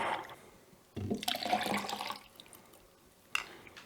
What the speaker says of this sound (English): And just pour that in, rinse, and use your brush to mix it all in.